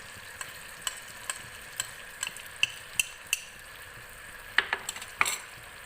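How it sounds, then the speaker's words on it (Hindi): Masala spices of cumin powder, turmeric, chillies, salt and coriander powder fry in oil for an egg potato curry, giving a soft sizzle under rhythmic, crisp scrapes and taps of a spoon stirring in the pan. "ये देखिए ये मसाला भून रहा है"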